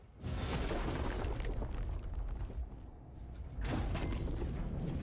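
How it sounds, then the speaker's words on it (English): Heavy mechanical rumbling and creaking roll through a Warhammer 40K battle scene, loud and sustained, dipping briefly before surging again like engines and machinery grinding nearby. "I hear engines."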